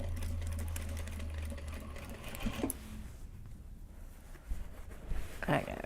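A sewing machine runs in a steady whirring burst while stitching upcycled Japanese obi and kimono fabric, then stops. The room goes quieter after that, with scattered handling noises and a voice speaking nearby.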